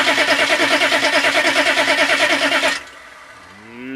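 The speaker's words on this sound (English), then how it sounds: "let's crank this baby up. We shall fire" A Weasel tracked vehicle's engine cranks with a steady, loud rhythmic churning pulse for nearly three seconds without catching, then cuts off abruptly to near quiet with a faint rising whine.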